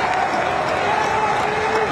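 Maccabi Jaffa supporters at a football match against Hapoel Nof HaGalil, a broad crowd roar with applause and chanting filling the stadium, steady and distant, under a commentator's voice.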